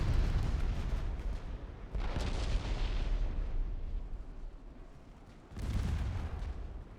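Warship secondary guns firing in an Ultimate Admiral Dreadnoughts naval battle between German and British pre-dreadnought fleets, heavy booming blasts with rumbling tails, two distinct volleys standing out over a continuous roar of battle.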